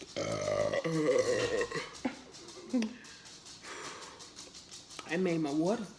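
Burps from a person eating Little Caesars pizza during a mukbang, with several loud voiced belches up close, separated by quieter breathing and mouth noises.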